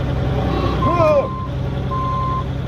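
A truck backs up on a site where asphalt is being laid for a burnout pad, its reversing beeper sounding in a steady tone over a low engine rumble, with voices calling out nearby.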